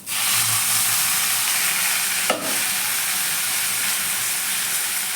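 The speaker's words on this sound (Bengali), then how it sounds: "নুন হলুদ দিয়ে আমি কচুটা একটু ভেজে নিয়েছি।" Taro pieces fry with salt and turmeric in hot oil, giving a steady, close, bright sizzle throughout, with one brief clatter partway through.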